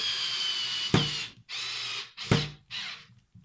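Cordless screwdriver with no adjustable clutch, running at full power in three short whirring bursts separated by pauses, with a sharp clunk at the start of two bursts.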